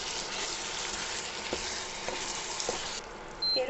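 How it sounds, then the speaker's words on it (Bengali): Ground spice paste frying with chicken hisses in a steady, close, dense sizzle, with soft clicks of stirring through it and a brief drop in the hiss near the end. "বেটে রাখা মশলাটা অ্যাড করে দেবো, নিয়ে ওপর থেকে মিক্স করে ভালো মতো নাড়িয়ে নেব"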